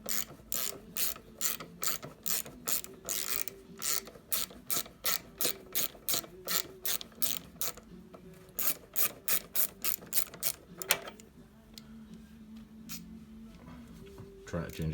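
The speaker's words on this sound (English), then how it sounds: "Trying to change a socket with one hand." A ratchet socket wrench clicks rapidly in steady bursts while loosening the 14mm and 12mm rear brake caliper bolts on a 1987 Honda CBR600F. The runs continue, pause briefly, then resume close up before stopping.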